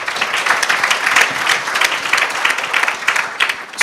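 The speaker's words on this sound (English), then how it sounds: "Please give them a round of applause." A conference audience claps steadily and densely throughout for a panel, a full round of applause with no voices rising above it.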